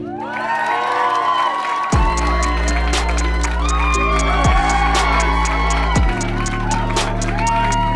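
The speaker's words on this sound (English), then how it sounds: "Please clap your hands together, make as much noise as you can, and welcome to the stage, Garnham." A comedy special audience cheers and whoops loudly as comedian Lewis Garnham takes the stage, crowd noise swelling over a heavy, steady booming backdrop for the full stretch.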